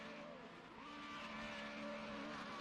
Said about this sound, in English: Simon revving the engine.